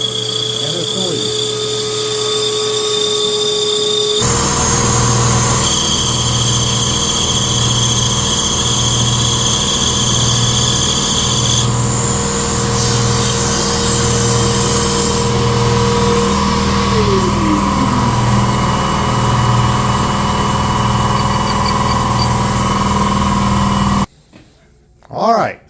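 Machine lathe coring out a pool cue, with a vacuum and air running, steady loud mechanical whine and hum with a rhythmic pulsing undertone, a pitch sweep partway through, then cutting off abruptly near the end.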